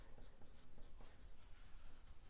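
A pen scratches quietly across paper in short, close strokes as a narration is written out.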